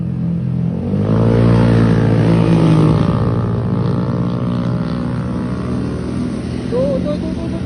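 A Honda scooter races past with a loud, rising engine whine that swells and fades within a few seconds, over steady background road noise.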